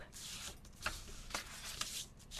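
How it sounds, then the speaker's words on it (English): Scissors cutting through a sheet of cardstock for a handmade butterfly thank-you card, heard as a few short crisp snips and slicing strokes, close and fairly quiet, with no talking. "we're going to cut some cardstock"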